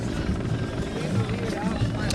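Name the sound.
helicopter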